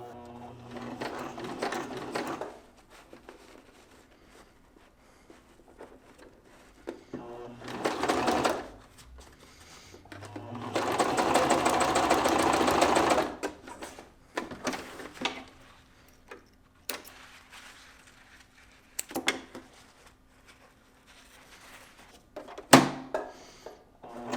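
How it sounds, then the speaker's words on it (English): A sewing machine stitches a seam on a front stretch pocket in short bursts of rapid whirring, the longest run lasting a few seconds, separated by pauses with clicks and thunks of handling. "Stitch on the very end to lock it down."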